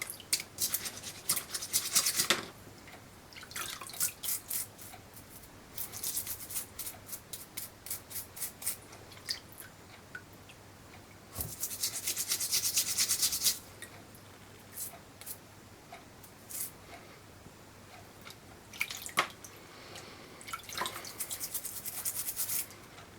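Repeated bursts of bristly brush scrubbing against the metal hammer of an Uberti 1851 Colt Navy revolver, in rhythmic runs with short pauses, close up and fairly loud, with no talking.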